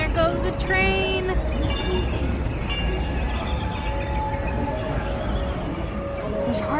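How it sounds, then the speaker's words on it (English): A train at Disneyland goes by with a steady, continuous rumble that holds at an even level for several seconds, mixed with faint tonal sounds and surrounding park noise. "Oh, and there goes the train."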